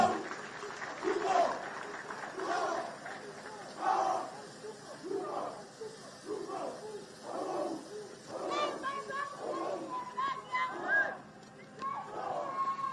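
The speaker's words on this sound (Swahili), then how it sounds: "Asante sana, tuongeze makofi tafadhali." Crowd applause and cheering at a National Youth Service pass-out parade in Gilgil, Kenya, rising in bursts over a noisy outdoor gathering, with a voice calling out above it.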